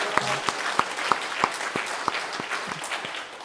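A church congregation claps in rhythm together at a Sunday worship service, with sharp, evenly spaced claps ringing through the sanctuary over a steady background of applause.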